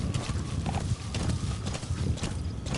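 Horse hooves clip-clop steadily at close range while riding in Metal Gear V, a brisk rhythmic trot with a short whinny-like cue partway through, heard alone without talk.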